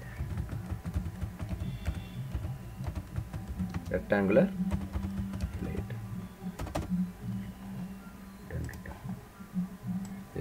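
Typing on a computer keyboard during CAD software work, soft scattered key clicks in short bursts under someone speaking quietly throughout.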